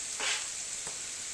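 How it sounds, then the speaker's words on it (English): Onions and shallots sautéing in oil in a pan over medium-high heat, a soft steady sizzle with a couple of brief stirring bursts, no talk. "Here you can see them sizzling in the pan."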